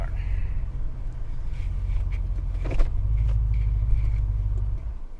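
A Mercedes-Benz CLS55 AMG rumbles at low speed while being parked, its deep engine note steady and close with a brief mechanical click partway through.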